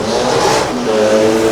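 Autosprint race car engine screaming at full revs on a dirt track, a loud, continuous high-pitched roar that climbs slightly in pitch and holds steady near the listener.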